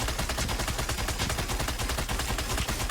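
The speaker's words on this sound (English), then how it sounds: "left click is a Mind Blast" Emma Frost's Mind Blast beam attack in Marvel Rivals: a loud, dense, continuous crackling barrage with rapid rattling pulses and no pause for three seconds.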